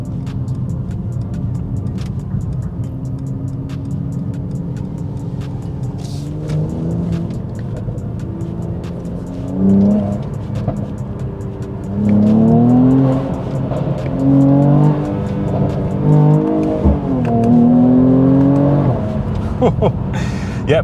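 A car with paddle shifters revs hard in second gear through a tunnel, with loud engine note rising and falling in repeated surges and a voice speaking at times over it.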